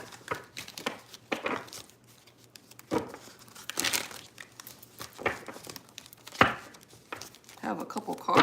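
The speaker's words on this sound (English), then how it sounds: "we're gonna get a few shuffles in here" Tarot cards being shuffled by hand during a live reading, a run of soft papery riffles and crinkling bursts in irregular bunches, close and moderately loud, with quiet room noise between.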